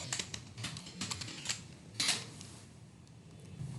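Rapid clicks from a computer keyboard as an Excel formula is typed, steady and close, with a few harder keystrokes standing out and no speech.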